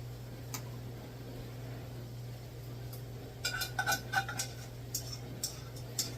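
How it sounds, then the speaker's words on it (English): A spoon stirs cheese into ham and au gratin potatoes in a dish. Soft clinks and scrapes come in bursts over a steady low hum, faint and close. "So I'm just going to stir this around a little bit to get the cheese everywhere."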